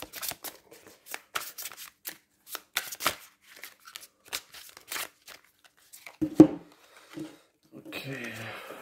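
Playing cards shuffled by hand for a tarot-style reading, a run of sharp, quick riffling bursts and snaps close up, with a brief voice near the end.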